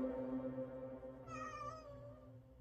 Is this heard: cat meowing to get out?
yes